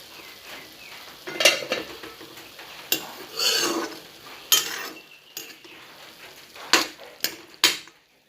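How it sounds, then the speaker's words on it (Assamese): Assamese greens with potato being stirred in a pan on a gas stove, a series of sharp utensil scrapes and clinks against the pan, irregular and close, with no talking. "এতিয়া ঢাকনিটো গুচাই আকৌ অকণমান লৰাই দিম।"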